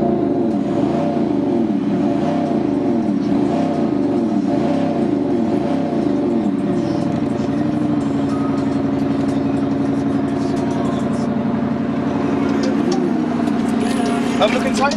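A 2018 BMW M5 F90 engine with an exhaust sound enhancer revs up and down in repeated pulses, then settles into a steady throaty rumble with a voice speaking over it.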